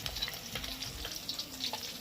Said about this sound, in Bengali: সেগুলোকে আমি লাল করে ভেজে নিচ্ছি দেখো ডিমগুলো সম্পূর্ণ ভাজা হয়ে গেছে